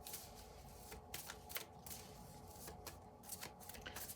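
A deck of cards being shuffled, with repeated quick riffling bursts and soft flutters in an irregular rhythm, close and fairly quiet, with no talking.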